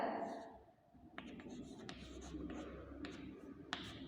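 Pen strokes scratch across paper as someone writes a card for an inter-school competition, soft and close with brief gaps between strokes, while a voice speaks over part of it.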